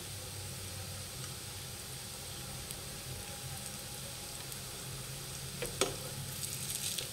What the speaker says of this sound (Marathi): मीडियम गॅसवर आपल्याला मस्तपैकी फ्राय करून घ्यायचं आहे.